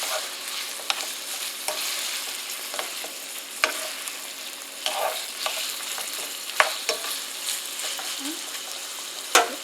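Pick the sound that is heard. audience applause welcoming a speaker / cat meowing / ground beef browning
ground beef browning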